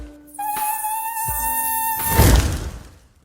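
A mosquito whines in a bedroom with a thin, high, steady buzz held for about two seconds, close and clear, followed by a rushing burst and no voices.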